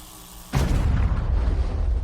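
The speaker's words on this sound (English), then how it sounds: "The explosion was enormous and instantaneous" A pipe bomb explosion sound effect: a sudden, heavy boom bursts in after a short quiet lead-in and rolls on as a loud, sustained rumble that fills the rest of the moment.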